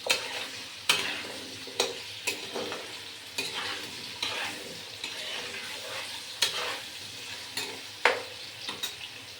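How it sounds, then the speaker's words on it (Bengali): Potatoes frying in oil in a pan while aloo posto is cooked, a soft steady sizzle broken by sharp clicks and scrapes as a spatula stirs the pieces every second or so, close up and with no talking. "এবার এই যে আলুটা ভেজে দিচ্ছি"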